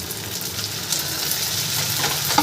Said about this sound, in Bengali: টমেটোটাকে দিয়েও একটু হালকা করে ভাজা ভাজা করে নেব।